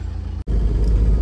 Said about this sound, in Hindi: मैंने गाड़ी स्टार्ट करके खड़ी कर रखी है